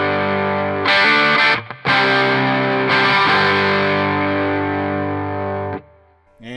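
Electric guitar played through a Line 6 HX Effects Vermin distortion, thick sustained crunchy chords ringing loud and close, with a few brief chord changes and a sudden stop near the end before a last strum.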